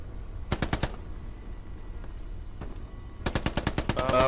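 Machine-gun fire aimed at a tank in the Hell Let Loose video game, two rapid bursts of sharp shots, one short and one longer, with quieter battlefield noise in between.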